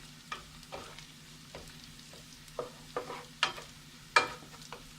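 Beef masala fries in a pan after curry leaves are added, in the style of a Kerala beef fry. A low sizzle runs steadily under sharp, intermittent scrapes and taps from stirring, close and moderately quiet, with no speech.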